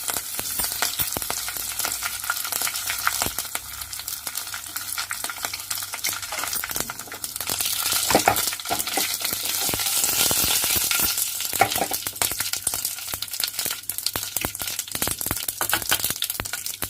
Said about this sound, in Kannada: ಸಾಸಿವೆ ಚಟಪಟ ಆಗಿದೆ.